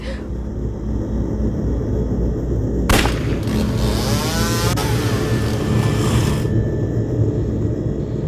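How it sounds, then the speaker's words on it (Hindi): A sharp, loud bang from a motorcycle exhaust backfire rings out, followed by the motorcycle engine whining past at speed for a few seconds before fading. "यहाँ से एक बाइक स्पीड से गई, लगता है साइलेंसर फट गया होगा उसका।"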